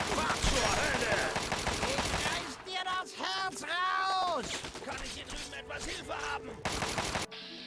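Gunfire from a 10 mm pistol in Fallout 3: bursts of sharp shots come in a rapid cluster early, then sparser shots follow among scattered game effects, with some talk mixed in.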